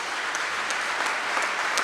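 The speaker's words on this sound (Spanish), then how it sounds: "podemos aplaudirle a Él" A church congregation applauds in a steady, even patter of clapping that fills the room at moderate volume, with no voices over it.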